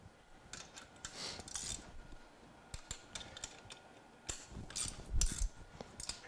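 Parts of a screen printing press being tightened down while the off contact plate is set up, with quiet clicking, ratcheting and small metallic knocks in irregular bursts, close and faint, no talking.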